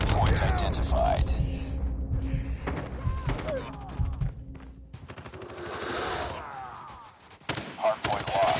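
Gunfire in a Hardpoint match of a shooter video game: bursts of shots, thuds and explosions pile up across the whole stretch, loud and busy, mixed with in-game voice callouts and effects.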